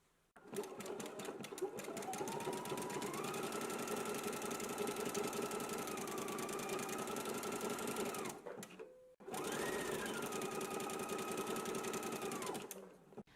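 A sewing machine runs a zigzag stitch along a fabric tie, its steady, rapid mechanical clatter holding close and loud for about eight seconds, halting briefly, then starting again for a second run.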